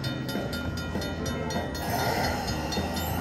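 A train sound effect plays from a Grand Train slot machine in a casino, with a steady rumbling, hissing rail-like noise and rhythmic clicks throughout, fairly loud and continuous with no talking.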